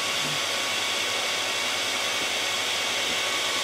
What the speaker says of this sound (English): Now I'm going to use a hairdryer